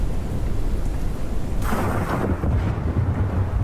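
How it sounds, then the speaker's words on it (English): Thunder from a lightning strike in the tornado-chasing video game Twisted: a loud rolling crack swells over steady heavy rain, then rumbles on beneath the downpour with no talking. "Lightning tried to assassinate my entire ass off."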